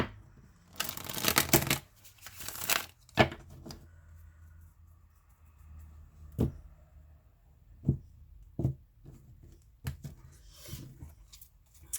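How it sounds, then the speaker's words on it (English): Tarot cards are shuffled close up: a couple of quick riffling bursts early on, then scattered single taps and slides of cards on a quiet table, with no voices. "Last shuffle."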